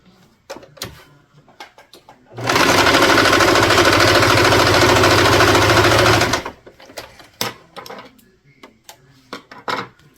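A sewing machine stitches a side back seam in one loud steady run of about four seconds, with handling clatter and light clicks before and after it and no talking.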